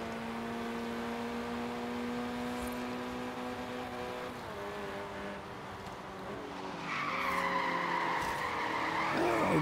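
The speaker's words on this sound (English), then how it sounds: "Good four-wheel slide from the Audi." An Audi S1 in the Forza Horizon 3 racing game drifts through a four-wheel slide, a sustained tire squeal and engine whine that holds steady and then rises louder near the end, with no talking.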